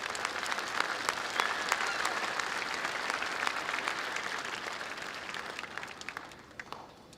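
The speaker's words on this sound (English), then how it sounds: "Let's give them a round of applause." A round of applause at a spring 2025 commencement ceremony honoring award co-winners, a broad crowd of many hands clapping continuously, gradually thinning and fading toward the end.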